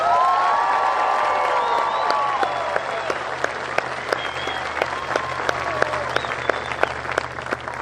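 A large outdoor stadium crowd at a Warren Hills high school graduation for the class of 2021 applauds and cheers steadily, sustained clapping with scattered whoops and shouts rising over it.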